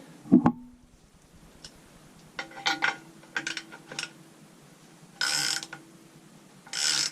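A ratchet clicks in short bursts while tightening an NPT threaded fitting on an AE86 engine, with quiet metallic handling noises and pauses between the runs of clicks.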